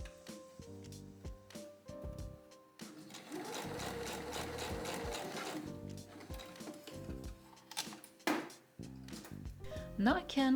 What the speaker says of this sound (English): and then stitch these together